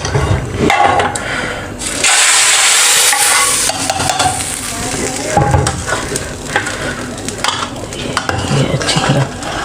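Lentil dal being stirred in a pot on the stove, with a utensil scraping and clinking against the pot over steady sizzling and bubbling, close and continuous, with a louder hissing burst partway through.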